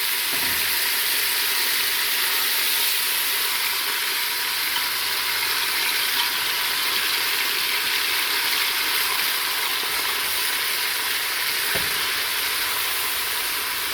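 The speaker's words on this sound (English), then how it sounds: "The meat's going to go in first to brown, cook, sear," Chopped beef browns and sears in hot oil in a pot, giving a loud, constant, close sizzle with no pauses.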